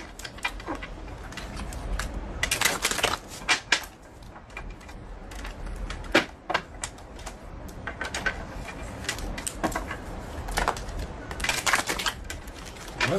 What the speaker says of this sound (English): I'm gonna shuffle the cards, okay?